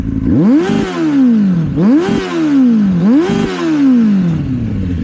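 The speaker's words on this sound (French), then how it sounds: "Il y a du son, on va être sur un 4 cylindres, donc ça chante plutôt bien." A four-cylinder Suzuki 600 Bandit motorcycle engine revs up hard three times in a row, each rise climbing quickly and then sliding back down, loud and close with no talking.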